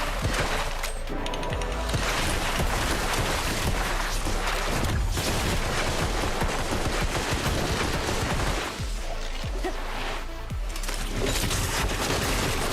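Continuous dense gunfire from Black Desert Online, rapid bullets firing in unbroken fusillade bursts with booming impacts, loud and sustained throughout with only a brief dip near the end.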